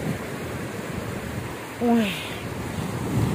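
Warm sea waves wash onto the beach at Mui Ne, Vietnam, a steady surf roar with wind noise, broken by a short exclamation from a person nearby.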